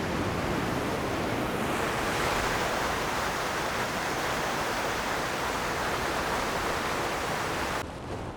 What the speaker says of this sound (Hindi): बहुत ऊपर से पानी आ रहा है उस वाटरफॉल का।